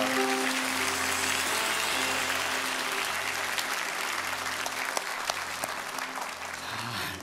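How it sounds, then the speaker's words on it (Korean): A church congregation at a Christmas Eve Sunday worship service claps in praise to God, a full, steady applause held throughout with low sustained organ-like tones underneath. "우리 다시 한번 하나님께 큰 감사와 영광의 박수 올리겠습니다."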